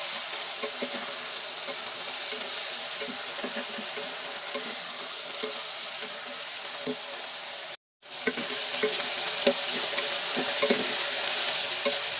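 Brinjal sautéing in hot oil in a pan, a steady close sizzle with faint stirring scrapes, briefly cutting out for a moment before resuming.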